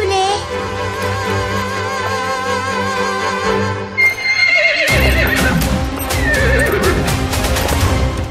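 A horse whinnies loudly and at length, then hooves clip-clop and the horse snorts over a dramatic film soundtrack with music playing throughout.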